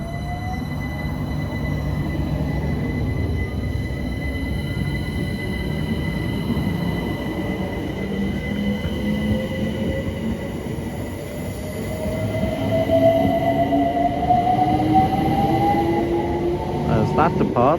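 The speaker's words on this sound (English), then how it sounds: "378152 will now depart for Dalston Junction" Class 378 electric train 378152 pulling away from a London station towards Dalston Junction, a loud steady rumble with rising motor whine and squealing wheels as it gathers speed.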